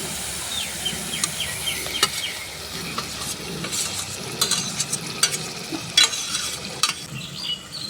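Mashed tomatoes being stirred into spice paste frying in oil, with a steady sizzle and repeated scraping clinks of a spoon against the pan, close by, no talk.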